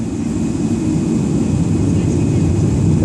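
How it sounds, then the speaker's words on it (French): A jet airliner at full thrust on its takeoff run at Dubai airport produces a loud, continuous, steady roar that fills the whole span, heavy in the low end with a hissing top. "et il entame le décollage avec la vitesse poussée à fond"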